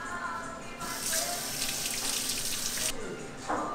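Tap water running into a sink during dishwashing, a steady broadband rush that swells from about one second to three seconds and then eases off, with clatter and background noise around it.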